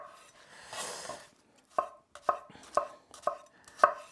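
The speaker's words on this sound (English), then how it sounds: "Finely cut your shallots." A kitchen knife chopping shallots on a cutting board: after a brief rustle, five or six crisp, evenly spaced knife strikes ring out close and clear, with no talking.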